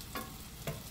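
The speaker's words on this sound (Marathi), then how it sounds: "मीडियमवर खोबरं भाजून घ्या आणि कांदा भाजून घ्या" Grated coconut and onion roast in a pan over medium heat, giving a faint, low sizzle broken by two quick stirring scrapes.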